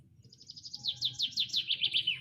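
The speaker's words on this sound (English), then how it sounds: "Yes, it is came from a bird." A small bird chirps in a quick, rapid series of bright, high notes, close and clear over a low background rumble.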